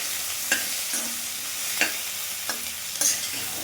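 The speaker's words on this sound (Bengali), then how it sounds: "এবার 2-3 মিনিট আমি আলু আর ফুলকপিটা ভেজে নেব" Potatoes and cauliflower frying in a pan, a loud close hiss broken by several sharp spatula scrapes and knocks at irregular intervals, no voices.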